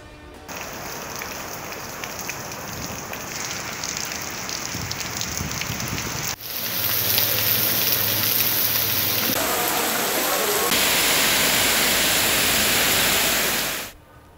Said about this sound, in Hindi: मुल्क में मानसून बारिशों के दूसरे स्पेल के जलवे जारी